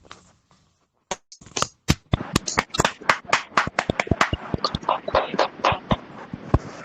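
Scattered clapping from participants of an online crypto meeting, sharp individual claps that start sparse, build into a quick irregular patter, then thin out again, heard close and fairly quiet.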